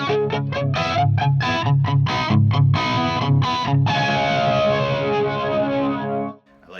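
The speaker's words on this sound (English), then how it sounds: "I can hit the flanger." Electric guitar with a crunch tone runs through a flanger, a rhythmic run of strummed chords that swirl and whoosh, then a final chord rings out and decays into silence.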